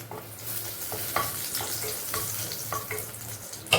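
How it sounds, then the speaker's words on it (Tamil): Whole cardamom, cloves, cinnamon and star anise sizzle and crackle in hot oil for butter chicken, a steady close frying hiss with occasional sharper pops and stirring. "ஒரு ஏலக்காய், கிராம்பு, பட்டை எல்லாம் பொரியட்டும். அன்னாச்சி பூ எல்லாம் பொரியட்டும்"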